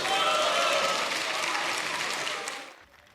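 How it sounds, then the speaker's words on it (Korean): Opposition lawmakers in a parliamentary chamber clap in sustained applause, dense and even, before it tapers off and fades out at the end. "연설 내내 야당 의원들은 박수로 호응했고"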